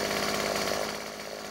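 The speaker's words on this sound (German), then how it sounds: "Es ist so romantisch, wenn die Kettensäge angeht" A loud chainsaw engine in the video game 7 Days to Die drones steadily and continuously without letup, a dense buzzing roar with no voices.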